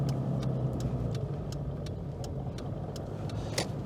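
Toyota Land Cruiser with a modified manual-shift transmission pulling away in first gear, a steady low engine drone with faint rhythmic ticking, moderately close and without talk.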